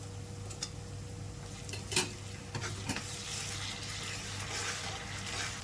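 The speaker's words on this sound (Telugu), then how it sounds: "ఇలా ఒక 2 మినిట్స్ అయితే కలుపుతూ ఉండండి." Onions and crushed green chillies fry in a pan under steady stirring, a soft continuous sizzle with a few sharper scrapes and taps of the spoon, no talking.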